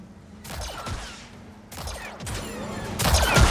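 Blaster shots ring out at B1 battle droids in Star Wars Jedi: Survivor, coming in three short bursts of sharp, bright zaps, with the last volley the loudest.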